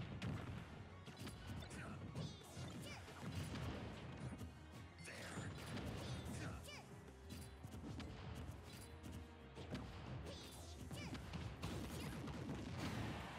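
A down smash attack landing in Super Smash Bros, with Snake against Pichu, as a sharp crashing hit within a dense, continuous wash of game effects and crowd noise, loud throughout.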